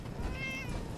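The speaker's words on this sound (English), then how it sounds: "Can this cute little kitten get out of my way?" A single soft kitten meow from Fallout 4, brief and faint, rising and falling once over low background game ambience.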